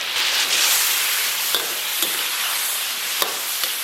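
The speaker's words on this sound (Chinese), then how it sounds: "再给它继续煸炒一下。" Steady sizzling of chicken stir-frying with chopped chilli sauce and Pixian bean paste in a hot wok, with a few soft scraping strokes of a spatula and no talking.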